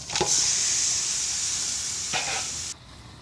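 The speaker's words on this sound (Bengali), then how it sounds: "এবার মাংসটা ঢেলে দেবো, দিয়ে কষাতে থাকবো।" Mutton hits hot oil already cooked with masala and turmeric, letting out a loud steamy hiss that holds steady, picks up a stirring scrape, then cuts off abruptly.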